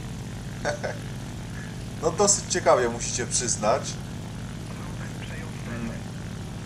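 Rear-mounted propeller engine of the XP-55 Ascender fighter in War Thunder drones steadily at low pitch throughout, with someone talking over it midway.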